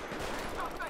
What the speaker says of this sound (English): Whoa, shots fired!